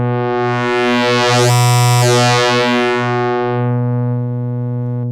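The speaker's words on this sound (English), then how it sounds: "So now we're getting pitch and we can hear these oscillators." Steady modular synthesizer oscillator tones with rich harmonics, the pitch sweeping up and back down in a smooth arc, sustained and loud with no voices.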